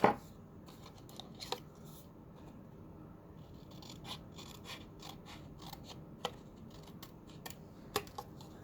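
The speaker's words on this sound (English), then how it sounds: "then I'm just going to trim this little piece off" Scissors trim a small piece off a stamped paper card, giving a series of faint, crisp snips close by over a low background hiss, with a sharper cut at the start and a few distinct clips later.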